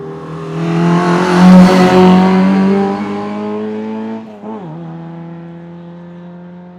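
A Jaguar E-Type race car at the Shelsley Walsh hill climb accelerates hard through a corner, its engine note loud and rising through the revs before a brief gear-change dip, then pulling on steadily up the hill.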